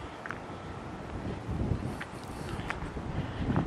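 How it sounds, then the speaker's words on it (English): Outdoor wind buffeting a Canon EOS M100 camera microphone fitted with a furry deadcat windscreen, a steady low rumbling roar throughout with faint scattered ticks. "A little bit of wind here. Hopefully these little things block the wind."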